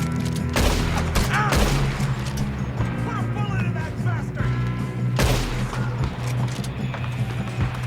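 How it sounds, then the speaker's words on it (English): Enemy gunfire during a train robbery in Red Dead Redemption 2, with sharp scattered shots and booms over rumbling train and hoofbeat noise while players talk under the action. "There's definitely somebody shooting at us."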